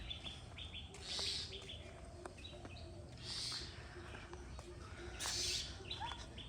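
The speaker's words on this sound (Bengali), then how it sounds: "পাখি ডাকতেছে, ওই যে পাখি," Faint bird chirps recur three times at roughly two-second intervals, thin high calls over a quiet outdoor village background.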